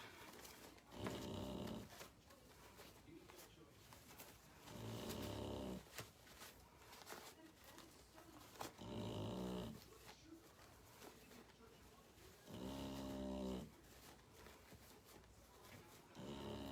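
A dog snores loudly in slow, regular rasping breaths every few seconds, repeating steadily against a quiet room background.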